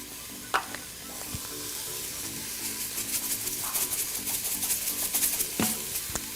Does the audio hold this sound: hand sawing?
no